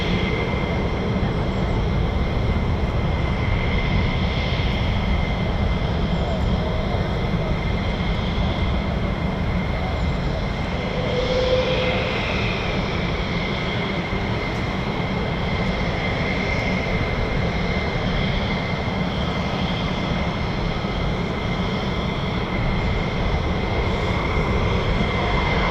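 A US Air Force F-15 fighter jet at RAF Lakenheath runs with a sustained, fairly loud engine roar and a high whining tone, holding steady for a long stretch with slight swells and no voices.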